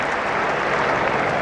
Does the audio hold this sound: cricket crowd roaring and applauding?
yes